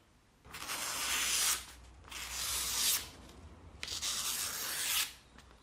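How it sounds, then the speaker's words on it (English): Chisel or plane iron edge being honed on a sharpening stone, three steady back-and-forth rubbing strokes with short pauses between, close and fairly quiet with a faint low hum underneath. "It's also worth honing the back edge again to remove any trace of that burr in case it's still there."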